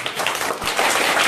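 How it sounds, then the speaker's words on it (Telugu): Audience applause at a notebook distribution event at a primary school in Chennur, steady dense clapping throughout at moderate loudness. "మరి ఒక్కసారి చప్పట్లతో గట్టిగా"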